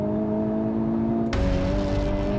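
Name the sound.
Honda Civic Type R engine with synthetic engine noise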